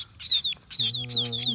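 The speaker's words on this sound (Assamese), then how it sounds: "চোৱা মুৰ্গীখন কেনেকৈ মেলি দিছে চোৱা" A hungry chicken squawks in two shrill, close bursts, with a low voice murmuring underneath during the second half.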